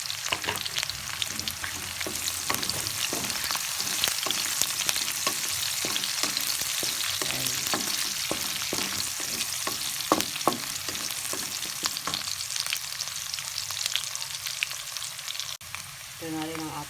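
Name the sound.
salted dried fish (daing) frying in oil with onion and garlic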